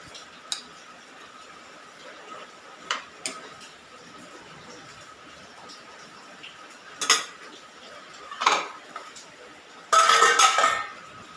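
A spoon stirs a jackfruit seed and mango curry in a metal pot. Sparse, sharp scrapes and clanks ring out at irregular intervals, ending in a longer burst of scraping, with quiet kitchen background between.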